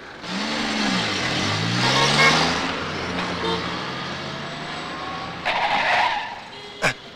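A car brakes to a sudden stop with loud, wavering tire squeals over engine noise, followed by a lower rumble and a brief sharp knock near the end.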